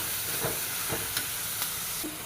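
Onion and garlic fry in two spoons of coconut oil in a pan for a snake gourd dish, giving a steady close sizzle with a few soft stirring scrapes at regular intervals.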